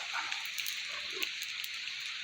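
Rain falls steadily in the countryside, a soft continuous hiss with scattered small drops tapping nearby surfaces.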